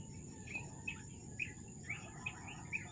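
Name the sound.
birds singing outdoors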